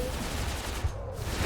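Protoss cannons fire in StarCraft II as a dense, continuous barrage of rapid blasts, loud and unbroken, filling the short moment with no talk over it.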